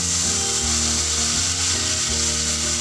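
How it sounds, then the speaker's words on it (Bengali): Medium-sized onion paste sizzles in hot oil with black cumin for a Bengali koi fish curry, a steady bright hiss with a low tonal hum running underneath. "এই অবস্থায় এর মধ্যে দিয়ে দিচ্ছি 2টো মিডিয়াম সাইজের পেঁয়াজ বাটা"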